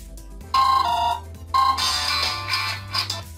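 A OnePlus One phone ringtone played loudly and close, a bright electronic melody of repeated chiming tones in two phrases, with no talking.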